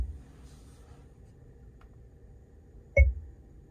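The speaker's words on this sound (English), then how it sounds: "Gives you that little beep." A single short electronic beep from the voice-command system of a 2022 Toyota Sienna XLE AWD minivan sounds near the end, clear against a quiet cabin.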